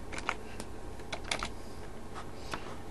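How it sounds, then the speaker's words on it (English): A short run of typing on a computer keyboard while entering a search, quick light clicks in an uneven rhythm, close and fairly quiet. "just go to Google if you want to make it look more futuristic, and just type in black grid wallpaper"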